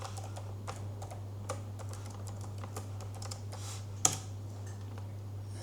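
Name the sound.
typing on a computer keyboard to log into a Putty session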